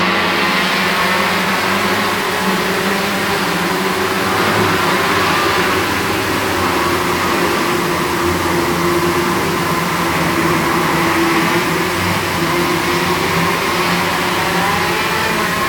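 Outlaw midget race cars roar around Sauble Speedway under green, a loud, continuous pack of engines revving and droning with shifting pitch as they race down the straights, no talk audible.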